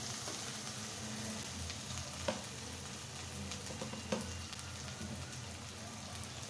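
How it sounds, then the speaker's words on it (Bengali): Ground cumin and turmeric powder fry in hot oil in a pan, giving a steady, close, dense sizzle with occasional sharper crackles and stirring sounds. "হলুদ গুঁড়া দিয়ে আমি এখন এটা একটু ভেজে নেব।"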